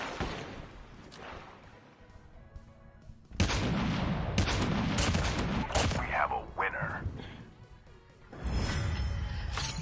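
Gunfire in Call of Duty Mobile battle royale: rapid bursts of shots crackle in two long volleys separated by a quieter gap, loud and close, with some talk mixed in.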